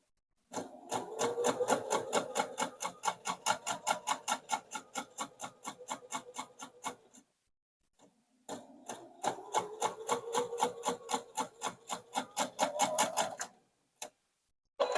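A sewing machine stitches a straight seam on a quilted placemat in fast, even bursts of rapid needle clicks, running about seven seconds, pausing briefly, then running again, close and clear.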